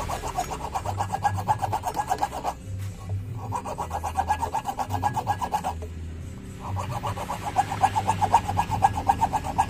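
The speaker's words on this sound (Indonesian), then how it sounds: "yang belakang aja saya akan grade pakai gergaji besi." A hacksaw cuts through a stuck bearing axle in steady, rapid back-and-forth rasping strokes, close and fairly loud, with two brief pauses between bursts of sawing.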